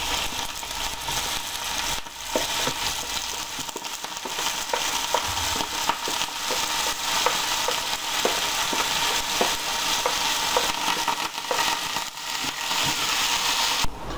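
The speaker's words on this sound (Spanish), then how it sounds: "ahora que empieza a dorarse la cebolla, vamos a poner el ajo y vamos a echar las patas" Onion, garlic and squid legs fry in a pan with a dense, steady sizzle and small crackles, punctuated by faint intermittent stirring taps, close and continuous throughout.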